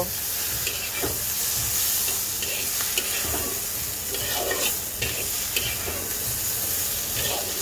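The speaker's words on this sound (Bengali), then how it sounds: "পটলটা দিয়ে দেওয়ার পর এইবার পেঁয়াজের সাথে সুন্দর করে মিক্স করে দেব" Fried pointed gourd stirred with onions in hot oil gives a steady loud sizzle with scraping and clattering stirring strokes throughout.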